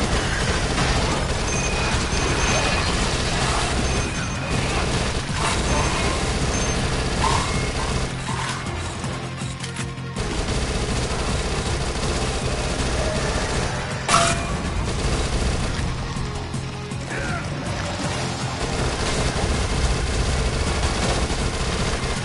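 SMG fire in the zombie shooter Dead Nation, rapid sustained bursts of automatic gunfire mixed with mechanical clatter and occasional booms, continuous and loud throughout.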